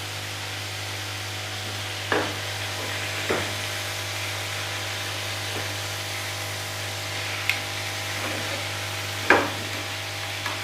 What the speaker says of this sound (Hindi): पहले इसको फ्राई करते हैं